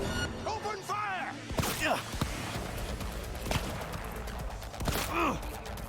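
Scattered gunshots in Cyberpunk 2077 during an attack on a parade, sharp cracks spaced out over the clip and mixed with in-game voices and combat noise.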